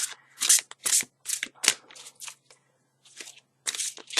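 Tarot cards are shuffled close by in quick bursts of papery riffling and crunching, separated by short pauses, with no voices over them.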